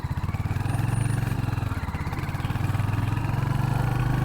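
A Royal Enfield Hunter 350 motorcycle pulls steadily in second gear, its single-cylinder engine producing a close, loud, even thump that holds constant throughout.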